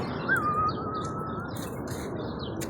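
A small bird gives a thin rising whistle followed by a drawn-out steady call, set among other faint chirps near a loft of tippler pigeons, over a continuous low outdoor background.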